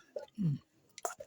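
Someone chews fried potato slices at a meal, with a few soft, close crunches and mouth noises, quiet and brief.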